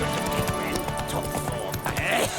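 Roach, the horse in The Witcher 3, gallops with rapid rhythmic hoofbeats and a brief whinny, mixed with game music and a voice speaking over the action.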